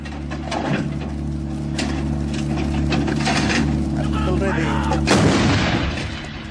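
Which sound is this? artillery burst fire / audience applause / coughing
artillery burst fire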